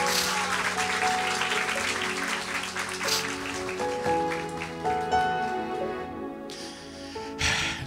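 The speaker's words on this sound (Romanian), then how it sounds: "Aplaudați-L pe Domnul Iisus." A church congregation applauds together, a full, sustained clapping that swells and then thins out, with breaths and a little voice mixed in.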